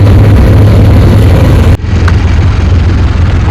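A rented vehicle drives around Koh Rong island in Cambodia, its engine giving a steady loud drone that briefly dips partway through before carrying on.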